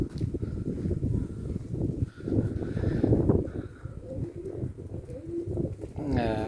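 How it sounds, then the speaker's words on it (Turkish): Domestic pigeons coo on the ground in a loft setting, a continuous low burbling chorus from several birds close by, with a voice speaking over it. "Şöyle biraz da yerde göstereyim kuşları."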